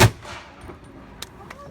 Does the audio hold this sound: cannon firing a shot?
yes